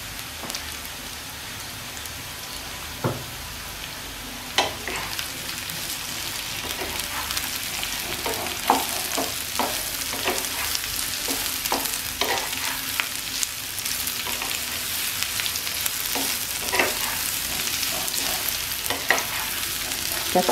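Carrots and capsicum frying for vegetable noodles make a continuous loud sizzle, dotted with sharp pops and the scrape of stirring, with no one talking.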